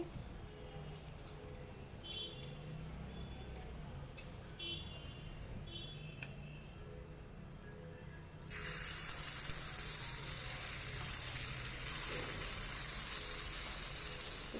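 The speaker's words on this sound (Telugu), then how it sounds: "పొంగనాల ప్యాన్కి ఆయిల్ రాసి పొంగనాలు వేసుకోవాలి" Ponganalu batter poured into an oiled ponganalu pan breaks into a sudden bright, steady sizzle partway through, loud and continuous after a quieter stretch of faint kitchen sounds.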